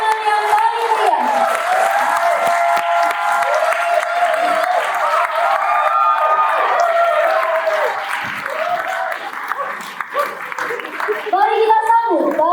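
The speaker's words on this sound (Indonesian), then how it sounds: "Beri tepuk tangan yang paling meriah." A crowd claps loudly and steadily after a traditional stage performance of Kisah Perempuan, the applause continuing for several seconds with voices and cheers mixed in and speech rising near the end.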